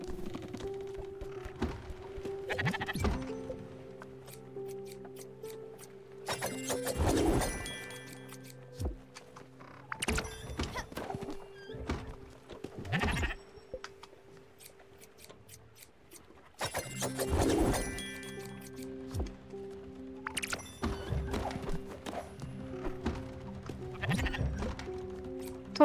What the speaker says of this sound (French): Les moutons. Faut s'occuper des moutons.